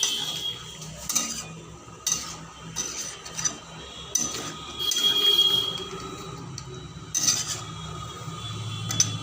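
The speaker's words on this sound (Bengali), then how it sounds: "আলতো হাতে নেড়ে নিচ্ছি ভালো করে।" A spoon scrapes and clinks against a pot while chicken makhani is gently stirred, giving irregular metallic taps and scraping strokes at close range, with no talk.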